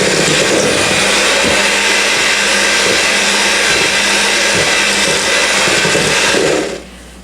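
An electric mixer beats a flour mixture into a sugar mixture for a blueberry buckle batter, a loud steady whirring drone with faint rhythmic thumps, running without speech and stopping abruptly at the end.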